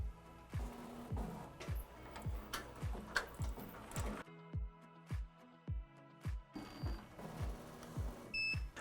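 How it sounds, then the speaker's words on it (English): An embroidery machine sews a trace stitch for a vinyl appliqué, a steady close rhythm of sharp needle ticks and mechanical clatter, with a brief quieter stretch in the middle, heard alone. "now I'm going to press start so it can give me the next trace stitch"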